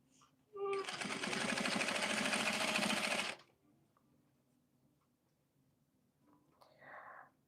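Sewing machine stitching a garment seam with a 5.0 stitch length, running in one steady, fairly loud burst of under three seconds, then stopping into near silence with a faint rustle at the end.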